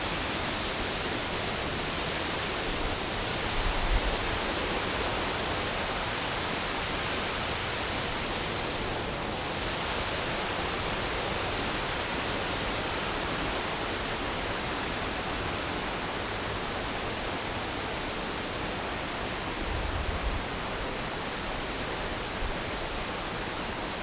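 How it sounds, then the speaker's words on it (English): A waterfall on the walk up Helvellyn in the Lake District, a steady broadband rush of falling water that stays loud and even throughout without voices. "Found the waterfall!"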